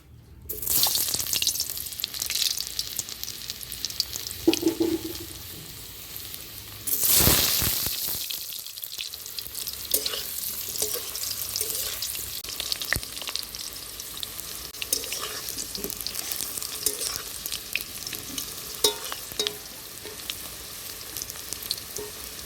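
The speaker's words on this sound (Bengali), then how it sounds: "সেই তেলে এখন আমি দিয়ে দিচ্ছি সেদ্ধ করে রাখা আলুগুলো" Boiled potatoes fry in oil left over from frying fritters. A steady close sizzle is broken by a loud hissing surge when more food goes into the pan, then settles into continuous crackling.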